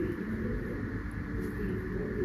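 Low, soft pigeon cooing murmurs beneath a steady rumbling background noise, continuous and fairly quiet throughout.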